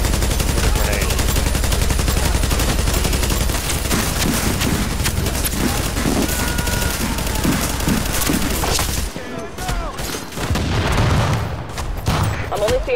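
Video game firefight in Resistance, with dense rapid gunfire and booming grenade blasts filling the first nine seconds, then sparser shots and explosions; a player talks over the action.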